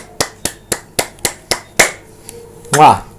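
Hands clap in a slow, steady rhythm, about seven sharp close claps spaced evenly, then a pause and one softer clap, ending in a brief voice.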